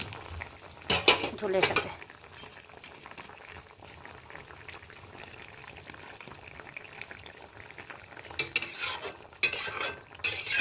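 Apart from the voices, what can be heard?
lentil fritters poured into simmering curry and stirred in pan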